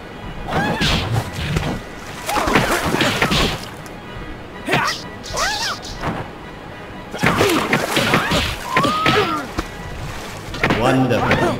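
Punches and kicks land in a Bruce Lee versus Chuck Norris fighting video game, with sharp thwacks and crashes in clustered bursts, separated by short pauses and grunting fighter vocalizations.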